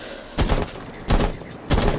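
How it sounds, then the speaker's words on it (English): Three short bursts of automatic machine gun fire in the tactical shooter Rainbow Six Siege, each a loud, dense rattle of rapid shots about half a second long, separated by brief pauses. "Her weapon, I don't know the actual name, but I use a machine gun"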